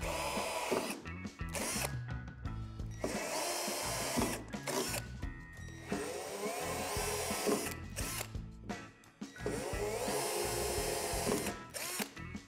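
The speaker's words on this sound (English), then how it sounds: "Locate these divots at the top and bottom of the door and drill them out with the provided drill bit." A power drill with the supplied bit bores out divots in a Lifetime plastic outdoor storage shed door, running in several close, loud bursts separated by brief pauses.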